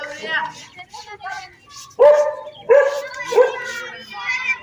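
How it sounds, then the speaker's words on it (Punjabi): A dog barks and yips several times at close range in a village with buffaloes nearby, with short sharp bursts mixed among people talking. "ਕੁੱਤਾ ਵੀ ਪਿੱਛੇ ਪੈ ਗਿਆ"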